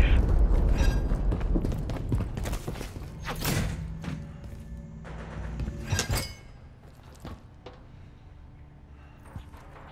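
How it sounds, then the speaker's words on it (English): Heavy explosion booms and deep thuds from a cruise missile strike in the video game Call of Duty MW3, loud rumbling blasts near 3.5 and 6 seconds amid dense battle noise, fading to quieter background afterward. "Friendly cruise missile approaching target."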